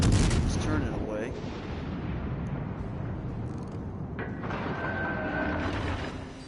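Naval gunfire and a shell strike on a warship in World of Warships Legends, a dense rumbling roar of cannon blasts and impacts filling the whole stretch, with a voice talking over it.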